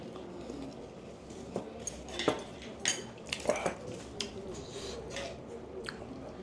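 Close, quiet chewing of Cheongyang chili pepper during a cheonggukjang meal, with irregular crunchy bites and light clinks of cutlery and dishes.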